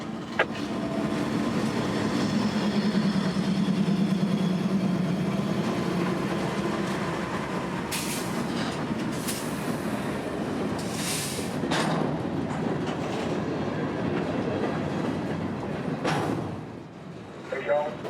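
A freight train of empty hopper cars rolls into a rail yard in Central Florida, a continuous low rumble with metallic clatter and squeals, heard under a radio voice and nearby talk.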